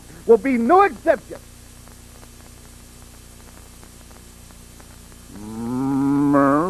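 A low, drawn-out bellow rises and swells near the end, preceded by a brief spoken phrase and a quiet pause.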